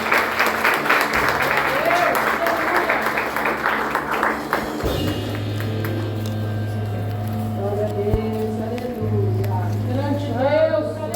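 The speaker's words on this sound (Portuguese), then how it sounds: "Em nome de Jesus, aplauda o Senhor" A church congregation applauds during a service, dense clapping under someone speaking over music, which thins out midway as a sustained organ or keyboard tone takes over with voices.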